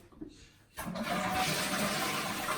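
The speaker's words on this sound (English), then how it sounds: "Give the toilet a flush." A toilet in a bathroom wet area is flushed: after a brief quiet moment a loud, close rush of water surges in and keeps gushing steadily to the end.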